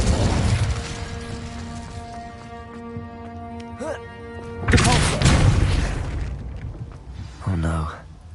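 Incendio fire spell cast in the video game Hogwarts Legacy, a deep fiery boom bursting out midway amid game music tones, followed by a crackling tail and a later short whoosh.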